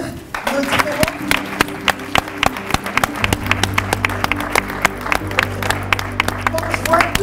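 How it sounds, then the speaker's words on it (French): An audience at a French awards event applauds the finalists, with scattered, irregular claps rising into steady clapping over a low hum from the hall. "est-ce qu'on peut applaudir nos différents..."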